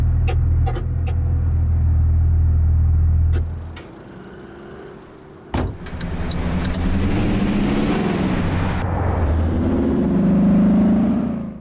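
Car engine from a realistic-physics driving simulator game, a steady low rumble with revving and accelerating passages, briefly dropping quieter mid-way before building again, loud and alone with no talk.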